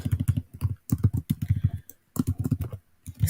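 Fast typing on a computer keyboard, with close, loud bursts of rapid key clicks separated by brief pauses.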